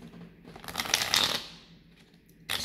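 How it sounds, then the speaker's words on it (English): Tarot cards are shuffled by hand in a quiet room, a few soft riffling bursts with one fuller flutter in the middle and a brief rustle at the end. "shuffling the cards."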